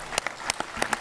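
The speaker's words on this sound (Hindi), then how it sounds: "जोरदार तालियां हो जाए इसके लिए" Audience claps at a Patanjali village industries gathering in Haridwar, a few distinct loud hand claps in uneven rhythm, close and sparse rather than a full ovation.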